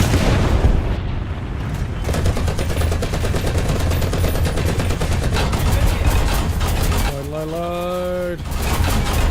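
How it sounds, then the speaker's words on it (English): Rapid, steady machine gun fire rattles through nearly the whole stretch in the War Thunder combat game, loud and continuous, with a rising engine-like whine cutting in near the end. "I'm hearing some gunfire of some kind"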